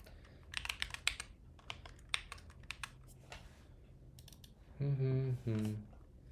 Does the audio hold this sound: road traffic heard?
no